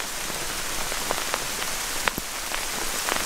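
Hail pelting down on a campsite, a dense steady patter of hard pellets striking close by, with occasional louder individual impacts standing out, and no voices.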